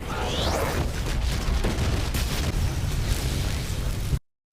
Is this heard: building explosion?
yes